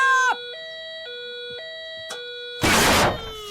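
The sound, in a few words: faulty milking-time alarm going off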